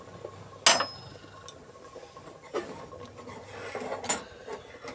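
Fried bay leaves, dried chillies and cumin tipped into a pot of khichuri, giving a sharp clatter and sizzle followed by a few lighter scrapes and clinks close by.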